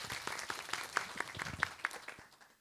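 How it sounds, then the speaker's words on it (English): Audience applause at a learning and teaching week event, a short burst of scattered hand claps that peaks early and tapers off toward the end, moderately loud in a hall. "I think we must clap"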